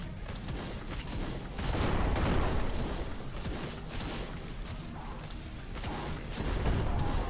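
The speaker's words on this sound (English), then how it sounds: "The missiles, though." Missile launches and explosions in a post-apocalyptic zombie base defense game, a dense, continuous barrage of booming blasts and crackling fire that swells louder in two surges, with no talking.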